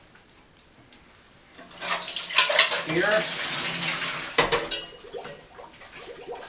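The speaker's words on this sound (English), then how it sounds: "And now we're going to strain and dry the plantains." Soaked plantains strained out of their soaking water, a close splashing pour and trickle building after a quiet start, peaking midway with sloshing bursts, then tapering to drips; a brief spoken word occurs near the end.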